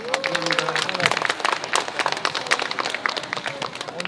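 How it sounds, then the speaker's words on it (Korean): Audience applause at a Sangju Donghak cultural festival poetry-drama performance, a steady wash of clapping across the whole stretch with voices mixed in underneath. "이사장님께도 박수 한번 주십시오"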